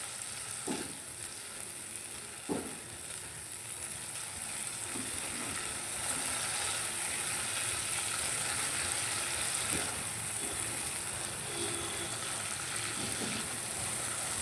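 Spices sautéing in hot oil in a pan for a brinjal dish, a dense continuous sizzle with a couple of stirring knocks early on and no speech.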